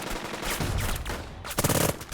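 Short, loud bursts of automatic fire in Burden of Command as troops recon by fire, rattling rounds that build to a sharper cluster near the end.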